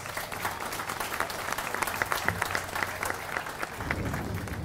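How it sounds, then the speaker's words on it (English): Outdoor crowd at an Armed Forces Day opening ceremony at Venice Airport applauds steadily, a moderate, continuous patter of many hands clapping at a slight distance. "Let's give them all a round of applause, please."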